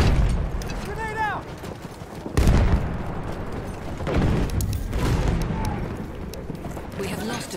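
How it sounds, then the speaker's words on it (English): Battlefield 1 combat with a grenade blast and gunfire: a loud, sudden boom partway through, scattered shots and rumbling explosions around it, and shouting voices over the battle. "Throw the grenade!"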